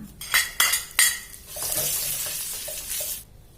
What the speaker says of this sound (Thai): เราจะผัดเห็ดหอมที่เราหั่นเป็นชิ้นเล็ก ๆ ให้หอมก่อนนะคะ